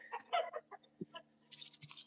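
Chickens on a farm give short, close clucks in scattered bursts, with brief pauses between calls and a few sharper, higher-pitched squawks near the end.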